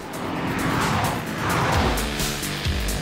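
A car driven hard on a race track brakes into the first corner, paddle shifts dropping down the gears as engine revs rise and fall, with tire noise throughout, loud and close.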